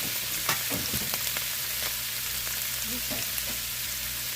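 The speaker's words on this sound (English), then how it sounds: "I just want to sear them a little bit." Pre-cooked shrimp sear in grapeseed oil with a steady, dense sizzle. Small pops and crackles rise above it throughout, and nobody talks.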